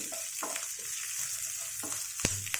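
Red chillies fry in a pan for a coconut milk chutney, giving a steady close sizzle with soft stirring scrapes and a couple of sharper clicks near the end.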